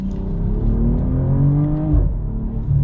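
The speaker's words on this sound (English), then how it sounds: "you get this great sounding engine" The engine of a 2022 BMW M440i Gran Coupe revs up from inside the car, a loud, rising mechanical tone that climbs steadily for about two seconds before dropping off abruptly, as if the gear shifts.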